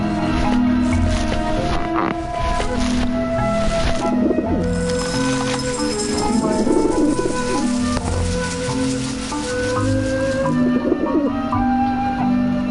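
Pigeons cooing in the Grim Fandango video game, soft repeated low burbling coos recurring throughout against a steady dense game background with occasional higher chirps, fairly loud and close.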